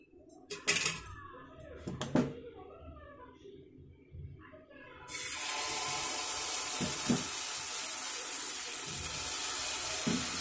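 Oil sizzles on a hot pan while an uttapam cooks from dosa batter; a few soft knocks and clinks come first, then a loud, steady frying hiss fills the rest of the clip.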